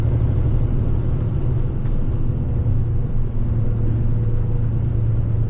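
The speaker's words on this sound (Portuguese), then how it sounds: "Esse caminhão, ele transporta 25 toneladas de ração." A feed truck hauling 25 tons of feed rumbles down the road in Ohio-Kentucky country, a steady low engine drone heard from inside the cab, with continuous road noise and no talking.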